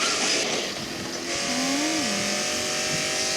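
A car in the video game Gangster Vegas drives with a loud, steady engine drone throughout, rising in pitch briefly in the middle as it revs.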